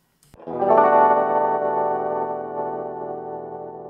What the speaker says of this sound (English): you can hear the kind of dropouts and that kind of crackly sound combined with the tape warble